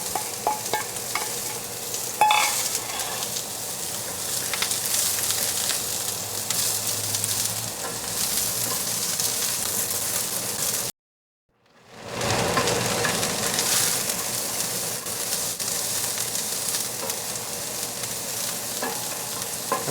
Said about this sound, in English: Let the oil heat up. Once it starts smoking a little bit, which it is